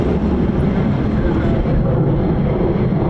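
An F-15 or F-35 fighter jet taking off from RAF Lakenheath without afterburners, a loud, steady broadband roar holding constant throughout the short stretch.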